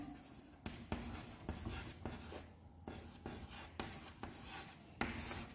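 Handwriting a matrix produces steady scratchy strokes of pen on paper, close and soft, in short repeated bursts separated by tiny pauses.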